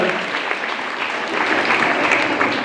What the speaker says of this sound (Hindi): एक बार जोरदार तालियां आप अपने लिए बजा लें